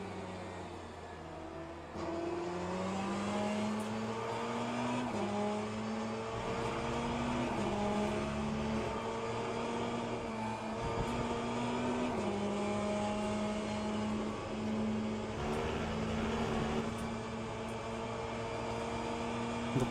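LMP2 race car engine in the Le Mans Ultimate sim, a loud sustained drone with rising and falling rev pitch through gear changes. Tire squeal is not clearly distinguishable.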